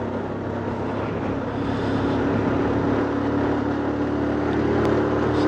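A vehicle climbs a ghat road section at under 50 km/h, its engine giving a steady, continuous drone close by with no talk.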